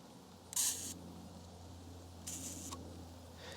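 Two crisp mechanical shutter clicks from a Kiev 4 rangefinder camera with steel shutter curtains, spaced a couple of seconds apart, with a faint third one at the end, over a low steady hum.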